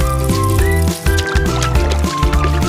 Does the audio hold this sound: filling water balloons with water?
yes